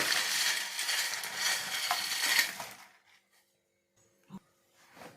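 Butter murukku dough frying in hot oil gives a steady, bright sizzle for about three seconds, then cuts out abruptly, leaving near silence broken by a few faint clinks and a short knock.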